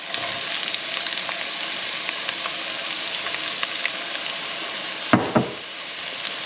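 Chopped onion sizzles steadily in hot oil in a pan, a continuous bright crackle with a couple of knocks from a utensil near the end, no talking.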